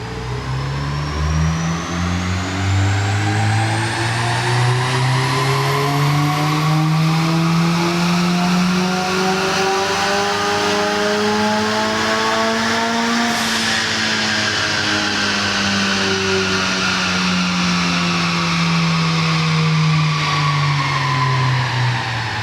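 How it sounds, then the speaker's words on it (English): A tuned car engine revs through the gears, its pitch climbing steadily for over ten seconds, then easing off and falling while still droning loudly and continuously. "Oh, I heard him rev it."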